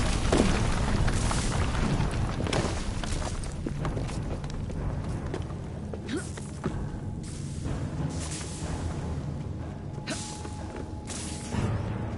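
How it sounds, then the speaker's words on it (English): A dense, rumbling blast from Assassin's Creed Syndicate, with booming low end and scattered crashes and whooshes, loud and continuous throughout, with no speech. "What was that explosion?"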